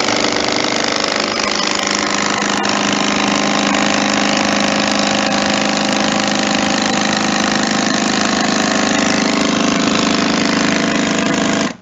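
An engine-driven vibrating machine running steadily for about ten seconds, a loud, constant droning rumble with a buzzing vibration, close to the microphone, then cutting off abruptly at the end.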